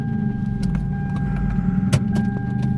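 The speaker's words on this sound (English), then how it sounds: "Some jerk is running his car." A car engine runs steadily nearby outdoors, a continuous low rumble with a few brief clicks and jangles over it and no talking.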